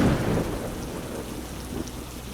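Steady heavy rain falls continuously with a dense hiss and a low rumble beneath it, evenly loud throughout with no voices.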